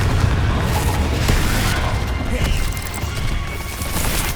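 Confringo blasting-spell explosions in Hogwarts Legacy, a dense, continuous roar of loud booms and crashes with rumbling low end and no break throughout.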